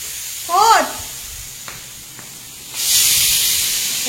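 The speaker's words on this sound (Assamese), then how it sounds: "আৰু এইফালে আমাৰ কুকাৰৰ মাত শুনিছোঁ।" A kitchen pressure cooker lets out a loud, steady steam hiss that starts partway through and continues to the end. A brief voice sounds earlier, and the room is otherwise quiet.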